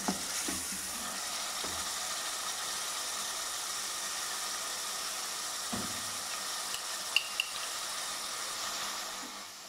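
Tomato, garlic and yogurt go into a pan of frying mince, giving a steady, fairly quiet sizzle that runs throughout, with a few soft knocks and clinks from stirring scattered over it.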